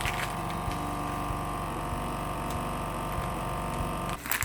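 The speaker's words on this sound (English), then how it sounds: "We will get that vacuum sealed as well." A vacuum sealer pulls air from a food bag packed with an oxygen absorber, giving a steady, loud mechanical hum with a whirring pump tone that runs continuously for about four seconds, then cuts off abruptly.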